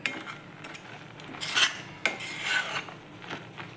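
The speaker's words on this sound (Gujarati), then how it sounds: "અને હવે એમાં કોપરાનું છીણ લીધું તો એ નાખી દેવાનું અને બરાબર મિક્સ કરવાનું." A spoon stirs grated coconut in a metal pan for a traditional Indian coconut sweet. Close scraping and clinking come in uneven strokes, with a few sharper knocks on the pan.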